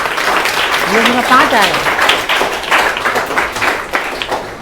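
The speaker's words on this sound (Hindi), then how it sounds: "ताली बजाइए इसके लिए" Classroom students clap together in short bursts of applause, mixed with a teacher's speech running over them.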